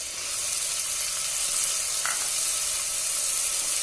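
Green peas added to ground green masala in a hot pan sizzle steadily and loudly throughout, a continuous frying hiss with a brief stir sound midway and no talking.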